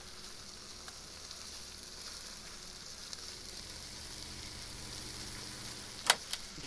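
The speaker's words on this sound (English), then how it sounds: "We're gonna triple fry this" A mixture fries in a pan with a steady, faint, even sizzle running throughout, broken near the end by a couple of sharp clicks or knocks.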